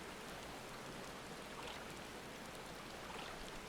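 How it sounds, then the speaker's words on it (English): Rain falls in the video game Final Fantasy 14 as a soft, steady hiss of drops, faint and unbroken for a few seconds, with no voices. "it's raining outside"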